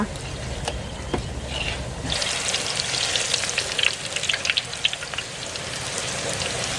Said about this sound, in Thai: เราจะทอดด้วยไฟกลางนะคะ